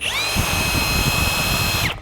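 A large, heavy-duty Hercules right-angle drill with a brake runs steadily at full speed, its loud motor whine holding constant for about two seconds before it is released and spins down.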